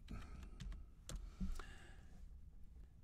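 Keys on a computer keyboard are tapped while entering an AutoCAD command, giving a short run of light clicks at close range over a faint background hum.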